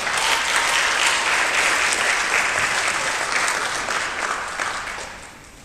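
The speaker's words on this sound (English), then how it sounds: "a big round of applause for Brian Reddy" Sustained applause from a graduation audience honoring a member of a high school choral class, a dense and steady wash of many hands clapping that fades slightly toward the end, with no voices over it.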